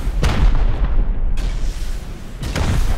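Rocket explosions in the Rust video game: three heavy, booming blasts spaced about a second apart, loud and close, each with a deep rumbling tail and no talk over them.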